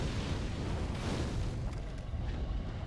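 An enemy in Dark Souls 3 spitting fire, a dense roaring whoosh of flame with a low rumbling body, steady and fairly quiet, fading slightly toward the end.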